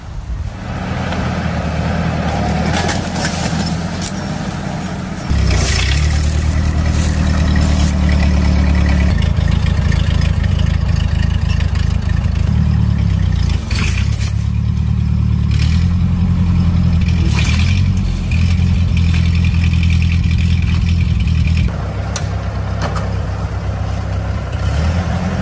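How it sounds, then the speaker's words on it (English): A vintage tractor engine pulls stumps, running loud and close with a steady rumble that deepens and strengthens under load for a long stretch before easing back. "Still amazed by how these vintage tractors hold up."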